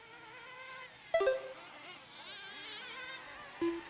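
Small RC trucks racing on a dirt track during qualifiers, their electric motors whining in shifting pitches at a distance, with a couple of sharper bursts as trucks pass closer, over faint background ambience.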